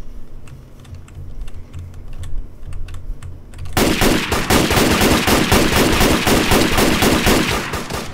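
M16 rifle fire in the RustV2 video game: after a few faint clicks, a loud, sustained burst of rapid, evenly spaced shots hammers on for several seconds with no voices.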